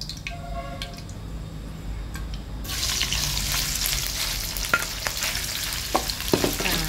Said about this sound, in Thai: ตั้งกระทะค่ะใส่น้ำมันลงไปนะคะ จะใช้น้ำมัน มาทอด หมูสามชั้นก่อนนะคะ